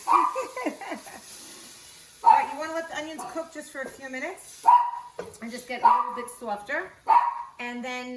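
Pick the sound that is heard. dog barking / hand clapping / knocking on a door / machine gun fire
dog barking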